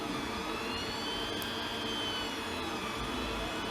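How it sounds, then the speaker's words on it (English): A 3D printer whirs steadily nearby, with high whining motor tones and a constant mechanical hum, no voices. "If you ever had a 3D printer, you know what it sounds like."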